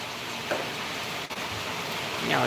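Heavy monsoon rain pours down in a steady, dense hiss that fills the whole stretch, with no clear pauses or other sounds standing out.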